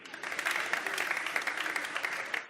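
A church congregation bursts into applause, a dense, steady wash of many hands clapping at close range for a couple of seconds, with no talk over it.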